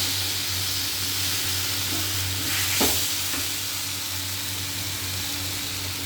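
Spice masala sizzling in a pan as water is added, with a stirring scrape; a steady frying hiss throughout, swelling briefly with a burst of steam partway through, close and alone.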